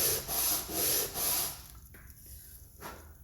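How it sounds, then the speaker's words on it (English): Sandpaper rubbed back and forth over wood on a police box build, three even rasping strokes close by, followed by quieter faint scraping and handling. "I just don't want to sand down really too much of the wood if I can avoid it."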